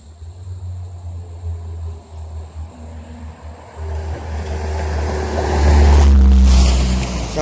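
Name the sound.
vehicle passing by near a creek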